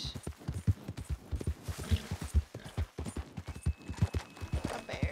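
Horse hooves in the Red Dead video game, clip-clopping in a steady, close rhythm over about five seconds, alone without speech.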